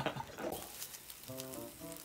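Food grills on a tiny BBQ stove made from a canned-coffee can, a faint close sizzle and crackle lasting a couple of seconds, no talking.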